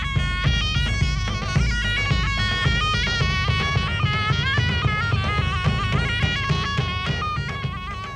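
A shawm, the nasal, reedy early double-reed ancestor of the oboe, plays a busy ornamented melody in a continuous bright buzzing line over steady low drumming, loud and unbroken with no talking.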